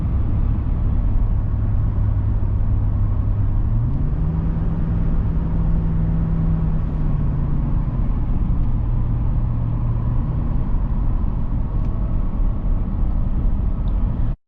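A GMC Yukon 2500 Quadrasteer driving along, its engine a steady low drone that rises briefly in pitch then settles back, with constant road and cabin rumble throughout.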